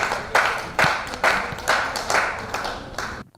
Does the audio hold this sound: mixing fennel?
no